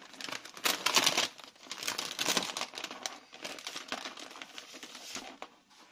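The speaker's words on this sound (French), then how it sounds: "Je vais essayer d'ouvrir la pochette." A plastic pouch being opened by hand, with soft crinkling, rustling and tearing sounds in quick irregular bursts, close and fairly quiet.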